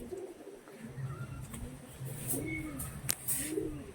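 Madras long-distance flying pigeons coo softly in the background, a few low rolling calls, with scattered outdoor noise and brief sharp clicks.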